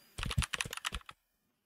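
Quick burst of typing on a computer keyboard while entering a file name: about a dozen close, crisp key clicks in rapid succession over roughly a second, then silence.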